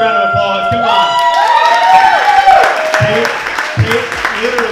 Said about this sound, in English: Let's give her a big round of applause, come on.